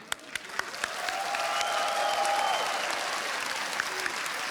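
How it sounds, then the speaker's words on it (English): Audience applause at an ESL One Katowice 2015 esports quarterfinal, a few scattered claps swelling into a full, sustained round of clapping from a large crowd with faint cheering. "So a big round of applause for Keed."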